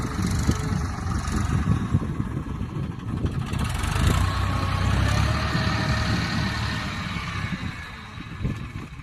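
A farm tractor engine runs steadily at sowing time, a continuous low, rough rumble that holds close and fairly even for the whole stretch with no voices.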